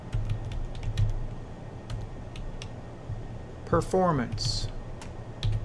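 Steady tapping on a computer keyboard while entering text in Adobe Photoshop CC 2020, close and clicky in an irregular rhythm, with a brief spoken word partway through and a low room hum beneath.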